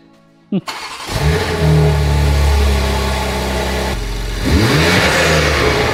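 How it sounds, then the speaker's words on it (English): A crash-damaged, rebuilt BMW M3 Competition engine cranks and fires, then revs up loud and close with a sustained rising drone, eases briefly and revs again, with some intake suction whoosh. "I don't know if it's going to make much noise revving"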